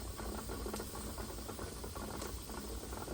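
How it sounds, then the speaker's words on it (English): Steam escaping from a pressure canner while canning chipotle beef, a steady soft hiss with faint rattling from the weight throughout. "You can see the steam escaping."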